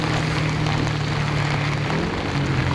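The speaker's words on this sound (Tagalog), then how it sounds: "Ang lalaki ng patak ng ulan." Steady, dense rain with large drops hissing across the whole clip, broadband and constant, with a low rumble underneath like an engine or wind; no voices. Heard while riding a motorcycle near Baguio City.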